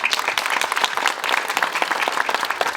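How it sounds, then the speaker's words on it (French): Steady applause from an audience at a community gathering for Eastern Christians in Montfermeil, dense and continuous clapping filling the room without a break. "Sous vos applaudissements, merci."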